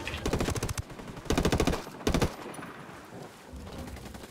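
Bursts of automatic weapon fire in the video game Ghost Recon Wildlands, three rapid volleys of closely spaced shots with short pauses between, followed by quieter background ambience.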